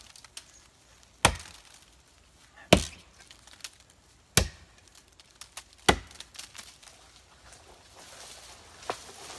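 An axe splits wood with sharp, loud chops spaced a second or two apart, each crack ringing briefly before fading, with smaller knocks and rustles in between.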